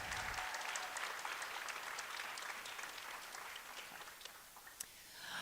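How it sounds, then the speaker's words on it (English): A crowd at a jigsaw puzzle national championship applauds its volunteers, a dense, steady clapping that holds for several seconds before thinning and tapering off near the end. "please give our volunteers a giant round of applause to thank them for helping us"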